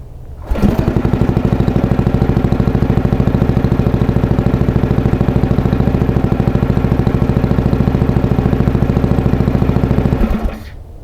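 Mud motor on a fresh build, run at around 1650 RPM, starts abruptly and chugs loud and close in a fast, even, clattering rhythm for about ten seconds before cutting off.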